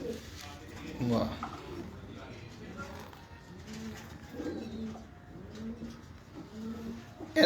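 Teddy and Ferozpuri pigeons in a Bahawalpur loft coo in a series of soft, evenly spaced low calls, close by, while people talk quietly nearby.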